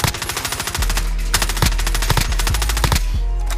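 Rapid automatic gunfire from the Warzone video game, loud sustained bursts of shots in quick succession with a few heavier reports, no talking.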